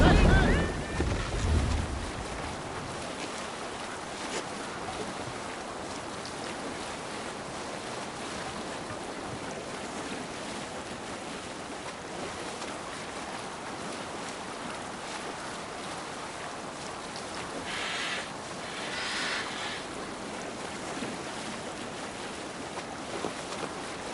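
Ship under sail at sea in Assassin's Creed Valhalla, a steady wash of waves and wind rushing along with a faint hiss of spray, a brief louder swell at the start and no talk.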